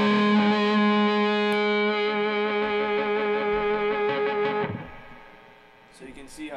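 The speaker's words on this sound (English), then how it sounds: "I'll just add a little bit of delay just for that lead tone." Electric guitar lead tone through a Peavey Valve King 112 tube amp with reverb and delay, sustained notes ringing loud and steady before trailing off into echoing decay, with a few short picked notes at the end.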